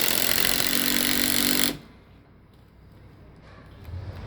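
A cordless impact driver drives a 3/8 by 3.5 inch lag screw during deck rail installation, a loud rapid hammering burst close by that stops abruptly after under two seconds, leaving quiet room noise.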